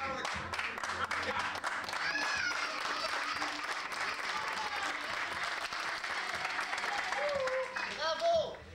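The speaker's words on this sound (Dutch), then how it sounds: "Zeg, had je al applaus gehad?" Audience at a festival applauds steadily for several seconds, a dense and sustained wash of clapping with some voices and whistles mixed in.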